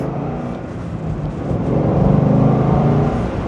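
A car engine fitted with a K&N cold air filter revs at half throttle, a loud, close drone that rises and swells in the second half.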